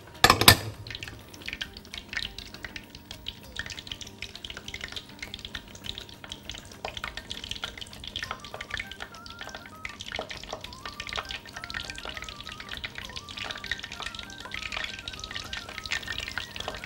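Shrimp fry in hot oil with a crackling, bubbling sizzle that runs steadily throughout, opening with a sharp clatter, close and moderately loud, with scattered pops and light utensil sounds.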